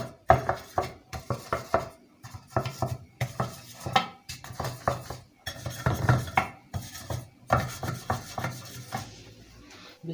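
A metal muffin pan greased with oil being handled in a home kitchen, with a rapid series of clinks, taps and scrapes at close range, irregular in rhythm and free of talk.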